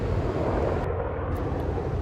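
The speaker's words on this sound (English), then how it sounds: "Did you see that helicopter go across? That was some type of fighting military helicopter." Military attack helicopter passing overhead near a farm tree-clearing site, a steady broadband engine and rotor roar that stays loud for the whole stretch, with no talk.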